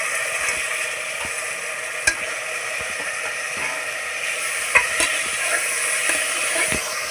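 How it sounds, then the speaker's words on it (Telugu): Onions and tomato frying in a pan for mutton biryani, a steady loud sizzle with scattered clicks and scrapes as they are stirred, no talking. "ఉల్లిపాయలు అయితే ఇలా వేగాలి, ఇలా వేగితేనే బాగుంటుంది"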